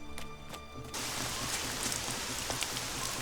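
Rain falls in the video game Elex, starting abruptly after a brief musical passage and continuing as a dense, steady hiss with scattered drop patter.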